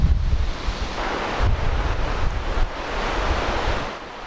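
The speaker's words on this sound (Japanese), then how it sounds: "この日は強風だったので渡るのに一苦労でした" Strong, gusty wind buffets the microphone at the Matsugase suspension bridge on the Amagi road in early summer, a loud continuous roar that surges and dips throughout.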